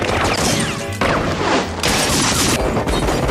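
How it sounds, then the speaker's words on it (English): Dense, chaotic bursts of gunfire and crashing impacts from a movie trailer, loud and continuous, cut together like a rapid action montage with heavy processed effects. "Gunfights."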